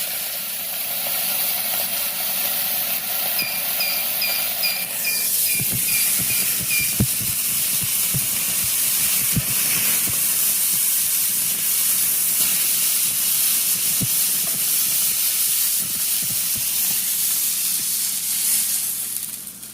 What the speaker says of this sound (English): Close the lid, press to sear, and we're gonna count down 45 seconds.